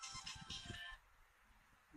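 A mobile phone ringtone sounds during a White Stork rescue outdoors in Ságvár, Hungary, a bright melodic ring playing for about a second over low background noise before cutting off into quiet.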